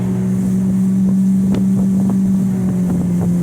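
The outboard engine of a 2019 Suntracker 16 ft Bass Buggy boat cruises at a steady 5,000 RPM, a loud, even drone with wind buffeting the microphone and faint water slaps.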